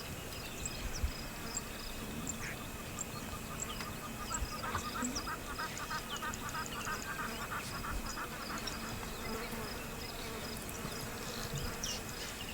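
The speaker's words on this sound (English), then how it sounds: "insects hovered all around them" Insects buzz and hover around a bachelor herd of giraffes out on the open plain, a faint, continuous drone with scattered higher whines over a steady outdoor hiss, no voices.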